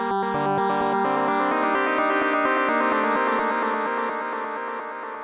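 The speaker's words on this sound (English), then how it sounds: "let's just click on ping pong delay, have it down here" Synth notes in Ableton Live run through a ping pong delay, the sustained tones repeating and echoing back and forth in a rich, smeared wash that fades slightly at the end, with no talking.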